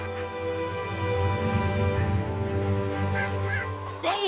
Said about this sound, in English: The bird chirped with joy.